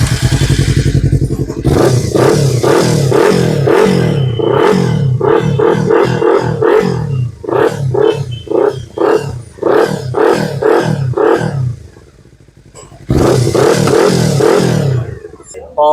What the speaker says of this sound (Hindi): ये नेक्स्ट हमारा आता है एक्रापोविक का। ये नया मॉडल है, इसमें साउंड बहुत ही प्यारा है